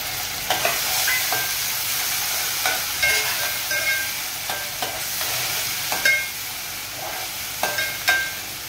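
Crushed garlic and tomato fry in a pan for a fish curry, a continuous bright sizzle with periodic scraping clicks from stirring every second or so, close and fairly loud with no talking.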